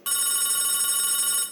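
Office telephone bell ringing, a bright, sustained electronic trill that starts abruptly and holds loud and close for over a second before fading, with no voices.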